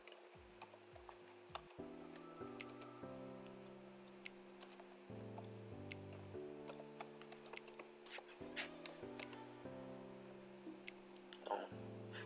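Quiet, steady typing on a computer keyboard while entering text in Photoshop, a run of close, soft key clicks in an irregular rhythm with occasional slightly louder taps and no talking.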